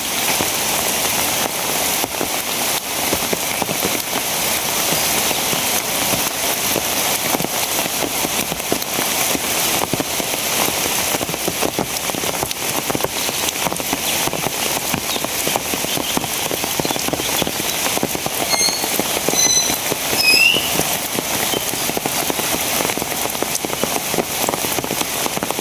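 Heavy rain pours steadily onto surfaces, a dense loud wash of drops with crackling patter that never lets up, alone with no voices.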